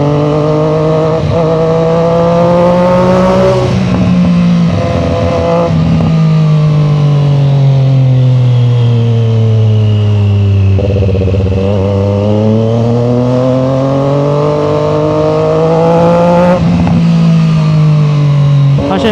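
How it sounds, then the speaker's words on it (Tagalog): A Triumph Street Triple Moto2 Edition naked motorcycle with a Zard full exhaust system rumbles loudly and close, its engine note rising and falling in sustained revs with a deep, steady drone. "Yung Zard full system, napaka-solid ng tunog."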